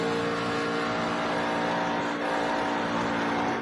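Racing truck engines in a truck racing video game at Texas Motor Speedway, a continuous loud droning roar with steady whine as the pack runs down the back straight, no pause throughout.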